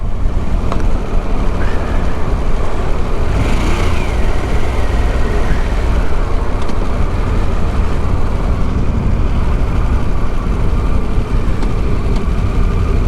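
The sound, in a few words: 2023 Pan America motorcycle engine, riding in first gear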